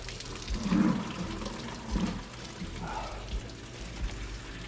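Coolant drains from a Dodge D350 truck with a failed camshaft bearing, splashing and gurgling unevenly near the bucket in irregular bursts, fairly close and moderately loud.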